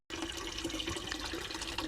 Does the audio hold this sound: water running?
yes